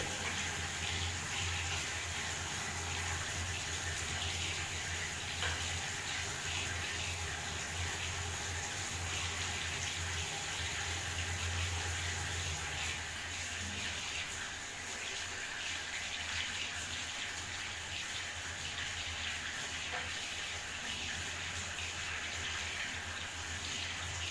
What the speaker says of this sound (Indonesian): mencuci tangan 6 langkah menggunakan sabun dan juga air mengalir